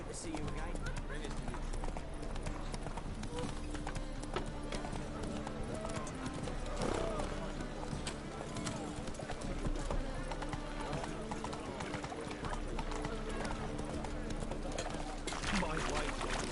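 Horse galloping in The Witcher 3, a steady stream of clip-clopping hooves continuing throughout, with occasional whinnies and voices talking over the hoofbeats.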